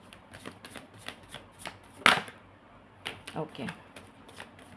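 Cards are shuffled for a tarot-style card reading in several quick riffling bursts close to the microphone, with one sharper burst in the middle and a brief spoken word alongside.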